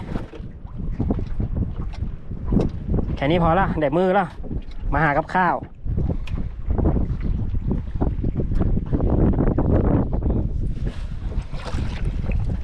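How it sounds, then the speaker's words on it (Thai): Strong wind buffets the microphone in loud, continuous rushing gusts beside the water during shoreline fishing among bamboo stakes, while someone talks briefly over it. "ลมก็แรงด้วยตอนนี้"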